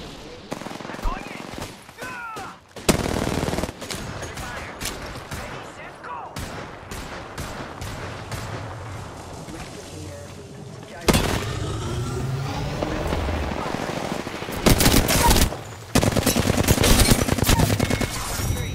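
Gunfire in the video game Apex Legends, rapid automatic bursts and sustained volleys with booming impacts, loud and close, separated by short pauses, while voices call out over the firefight.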